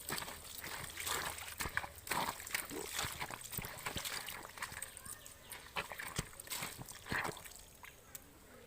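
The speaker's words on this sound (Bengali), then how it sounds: "জল দিচ্ছি, পা দিয়ে মাড়াচ্ছি" Bare feet tread and stamp in water inside a tub to wash something clean, giving a steady close run of sloshing, splashing and trickling with irregular heavier plunges, while a voice talks intermittently over it.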